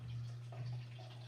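Water from a tap runs into a pot for pasta, making a steady, low, continuous pouring hum at moderate distance with no voices.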